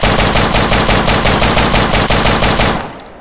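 Rapid automatic rifle fire from the Deadside video game rattles out in a loud, evenly spaced burst of about twenty rounds, then stops abruptly.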